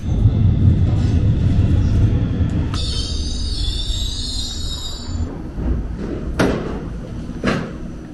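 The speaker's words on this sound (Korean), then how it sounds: "The train bound for Yeoncheon is now approaching." A Seoul subway train bound for Yeoncheon rumbles into the station, loud and close, with a long high wheel squeal in the middle and a few clanks as it slows.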